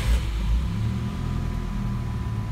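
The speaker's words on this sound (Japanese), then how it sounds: "ちょっとエンジンかけてみます。" A Nissan Silvia Spec-R's SR20DET turbocharged engine rumbles low and steady after turning over, idling close by with a brief surge at the start.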